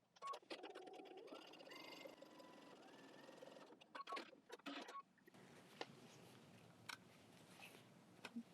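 Sewing machine stitching quilt pieces, running in quick rhythmic bursts that stop and restart, close and moderately loud, with small handling clicks between runs.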